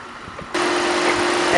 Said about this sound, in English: here is the 200 horsepower, 2-liter, 4-cylinder CC engine. As you can see, everything's very clean, running very smoothly.